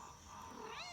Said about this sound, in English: Oh, there's one of the kittens.